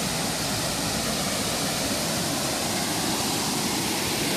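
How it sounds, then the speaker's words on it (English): Waterfall on the Sand River near Lake Superior, a loud, constant broadband roar of rushing water filling the whole stretch without pause. "With a waterfall in the background."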